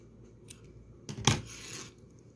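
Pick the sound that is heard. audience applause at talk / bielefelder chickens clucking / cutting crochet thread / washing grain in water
cutting crochet thread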